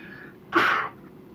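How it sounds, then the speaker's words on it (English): A single sharp sneeze bursts out close by, short and loud against a quiet background. "didn't mean to sneeze on you"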